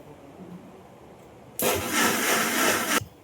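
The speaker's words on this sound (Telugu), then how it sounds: "నేనైతే మిక్సీ పడుతున్నా" An electric mixer grinder blends tomato pickle in a short loud whirring burst of about a second and a half, starting abruptly after a quiet moment and cutting off just as suddenly.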